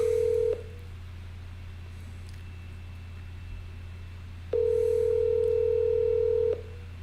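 Telephone dialing tones on a phone line: a steady tone at the start, a quiet pause, then a second long two-second tone, set over a constant low hum and faint background noise.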